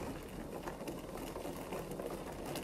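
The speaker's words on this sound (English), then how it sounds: "now it's at a full boil" Pot of water at a full rolling boil: a dense, even bubbling and hissing, steady and close, faint and continuous with no talk.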